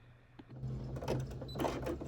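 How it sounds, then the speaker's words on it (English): An embroidery machine starts up and stitches fabric held in the hoop for an in-the-hoop mug rug, a few clicks giving way to a rapid mechanical whirring and tapping that swells in bursts. "Pull that fabric backwards and then allow the machine to stitch it into place."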